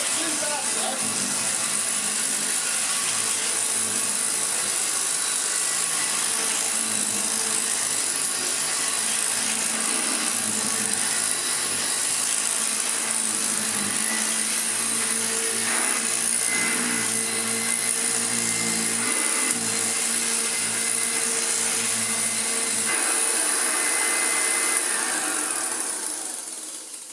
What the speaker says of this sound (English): That little tick tick tick that I think we're hearing is actually where I cut down that brush strip